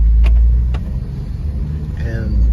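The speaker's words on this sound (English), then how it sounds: "We're taking the car for a spin," A 2012–2018 Ford Focus on a test drive after a transmission actuator replacement, its engine and road noise a loud, steady low rumble inside the cabin, with a couple of brief clicks and a short rising tone near the end.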